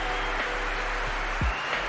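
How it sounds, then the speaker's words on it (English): Audience applause for a live art battle performer: a steady wash of clapping across the whole stretch at moderate level, with a few low thumps on top. "Big round of applause"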